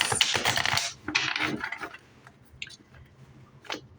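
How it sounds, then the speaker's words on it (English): Stiff tarot cards riffle and slap together in quick, papery bursts, close and moderately loud, followed by softer scattered taps and flicks. "I'm just doing a few more shuffles so I can fully connect to the cards."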